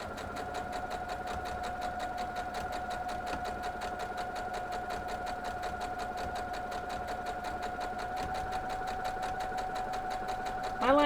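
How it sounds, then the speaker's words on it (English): A sewing machine stitches a quilt block with a steady, rapid mechanical whir and fast regular clatter, running continuously without talk and ending with a brief louder clunk. "we're going to sew the other side"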